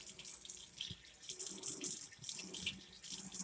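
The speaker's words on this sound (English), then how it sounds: "Now I'm gonna use hot water." Hot water runs from a kitchen tap to rinse a toaster tray at the sink, giving a steady hissing splash of flowing water that changes a little as the tray moves under the stream. The sound is close and continuous, and no one speaks.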